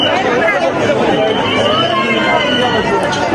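A dense crowd of devotees at Jejuri Malhargad temple on Somvati Amavasya, heard as a steady, close hubbub of overlapping voices and chatter that never lets up.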